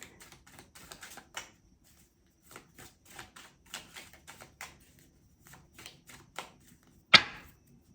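A deck of oracle cards riffles and flicks in quick bursts of crisp clicking, pausing briefly, then ending with a sharp loud snap.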